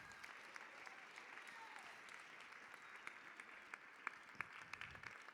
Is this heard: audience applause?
yes